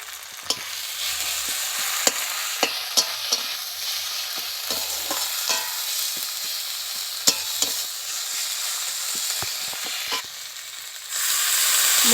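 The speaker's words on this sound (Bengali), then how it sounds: "এর উপরে আমি হলুদ গুঁড়ো আর লঙ্কার গুঁড়ো দিয়ে একটু ভালো করে কষে নেবো" Onion, tomato and chili sautéing with turmeric and chili powder in a hot pan, a loud continuous sizzle with sharp scraping clicks from stirring throughout, no one speaking.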